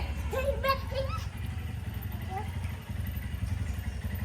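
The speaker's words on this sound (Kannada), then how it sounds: "ಅಪ್ಪ ಬೈಕ್ ಸೌಂಡ್ ಕೇಳಿದ ತಕ್ಷಣ" A motorcycle engine idles with a low, steady putter close by while a person speaks over it near the start.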